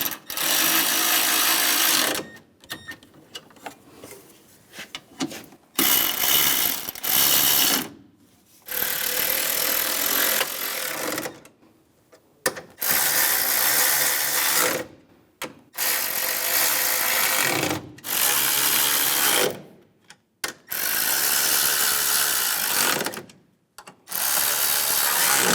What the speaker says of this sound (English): Put those two screws in. When those are all in, now we can tighten them all down.